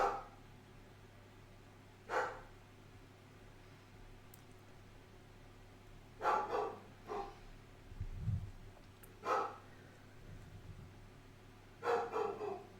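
A dog barks in separate short bursts, a few seconds apart and moderately close, over a quiet steady background hum with soft breathing-like noise, and no talking.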